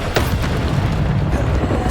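A Descendo spell slams down in Hogwarts Legacy with a brief booming impact near the start, then a low rumbling wash of game noise that lingers without a distinct second hit.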